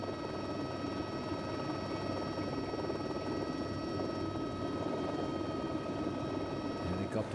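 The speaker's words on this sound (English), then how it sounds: "Helicopter panning down the whole long single line of the peloton." A helicopter filming a professional cycling race, the 2007 Flèche Wallonne, gives off a constant droning hum with steady mechanical tones that run unbroken for over seven seconds.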